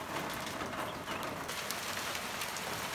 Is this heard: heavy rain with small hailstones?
yes